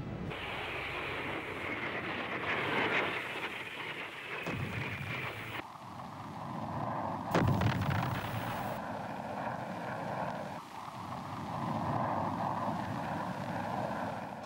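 Wartime bombing and aircraft noise from the Khe Sanh siege, with fighter bombers overhead: a continuous heavy roar of engines broken by deep thudding blasts and rumbling impacts, loud and dense throughout.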